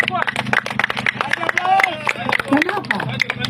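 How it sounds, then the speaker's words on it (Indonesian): Scattered clapping from a crowd at a heated public dialogue between a regency deputy head and students, with sharp irregular claps mixed into loud babble and talking voices close by. "Tepuk tangan dulu"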